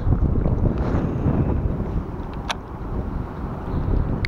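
Strong wind roars and buffets across the microphone on a boat during a winter pike-fishing outing, a dense continuous rush with a brief sharp knock midway.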